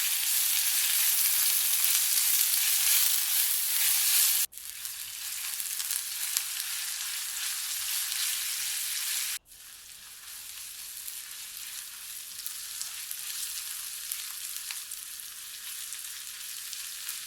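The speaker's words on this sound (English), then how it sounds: "Toss in thinly sliced onions and let them sizzle away until they turn that delightful translucent gold." Thinly sliced onions fry in ghee in a pan with a continuous bright, hissing sizzle. It stays close and steady throughout, with two abrupt cuts where it drops slightly in level, and no voices.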